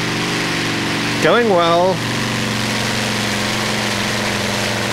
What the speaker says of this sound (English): 14-cylinder Hercules star motor.